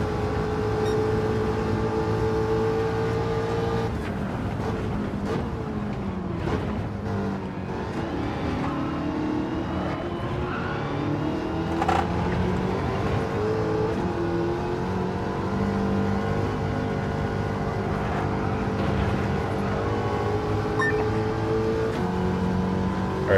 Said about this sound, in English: It's got that supercharger whine to it.